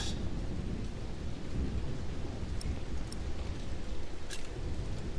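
A thunderstorm rumbles with low rolling thunder under steady heavy rain, a dense constant roar with a few sharper crackles, and no one speaks.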